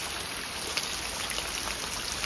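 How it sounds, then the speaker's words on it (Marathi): Steady rain falls beside a huge, 100 to 120 year old tree, a dense even hiss with scattered close droplet taps throughout and no voices. "आता पाऊस पडतोय"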